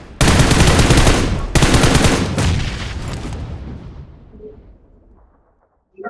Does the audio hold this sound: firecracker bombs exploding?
yes